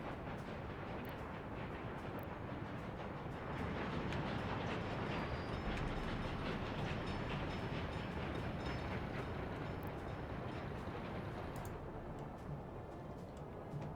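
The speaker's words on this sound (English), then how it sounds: "I guess that's the only train, ironically, bringing workers" A train runs in the city-building game Workers and Resources, set in 1930s Poland, with a steady rumbling roll and faint clicking carried at moderate level alone, swelling slightly midway.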